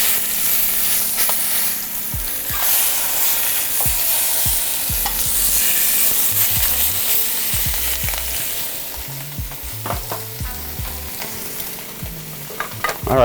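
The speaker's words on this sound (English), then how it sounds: "All right, I need to flip my lamb shank." A lamb shank sears in a hot pan, a loud continuous sizzle with brief spatula scrapes and clacks as it is turned, with no voices.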